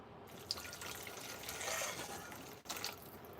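A whole cup of water poured for cooking vegan Mongolian mushrooms, a soft continuous rush of liquid swelling in the middle, a brief break, then a short final splash, fairly quiet with no speech.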